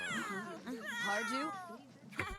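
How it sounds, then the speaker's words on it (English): Several cats in The Sims 3 meow loudly and repeatedly in drawn-out, wavering cries that overlap one another, ending with a sharp bump of noise. "Cats are being loud up there."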